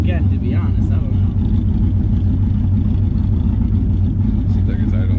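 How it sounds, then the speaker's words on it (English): LS-swapped Nissan 350Z drift car engine idling, a deep steady low rumble with a loping pulse, close and continuous, with people talking over it. "Seems like it's idling, alright. Yeah, that's the idle."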